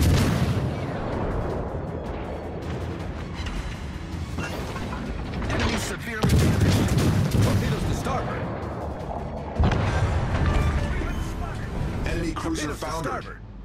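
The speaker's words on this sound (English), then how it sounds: "All stations, concentrate fire on the target." Naval artillery from the light cruiser Cleveland in World of Warships: Legends, heavy gun salvos bursting out repeatedly over clanking mechanical turret noise, loud and close, with radio-style voice callouts now and then.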